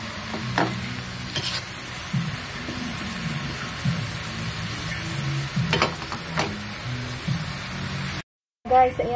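Chicken broth with shredded chicken boils in a pot with a bubbling sizzle and occasional stirring clatter, while a voice talks over it.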